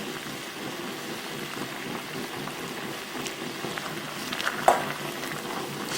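A pot of ulmyeon broth with blanched squid, shrimp, carrot and cabbage boils steadily, giving a continuous close bubbling and simmering patter with a brief louder splash or clink near the end.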